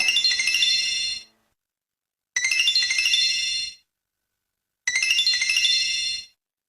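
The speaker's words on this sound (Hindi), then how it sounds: "कौन फोन कर रहा है?" A phone rings in three identical bursts of bright, high electronic tones, each about a second and a half long with clean gaps of silence between them, loud and close with no talk over it.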